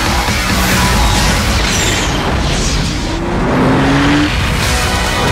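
A Porsche 911 sports car drives past at close range, with a loud, dense engine roar that rises and swells over a few seconds.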